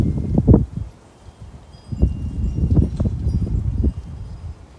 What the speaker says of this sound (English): That wind is something else.